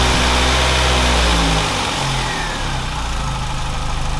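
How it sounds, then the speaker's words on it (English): A Corsa C track car engine runs loud and close, with a heavy revving burst early on that settles into a steadier lower drone. "Let's start the car and see what it sounds like"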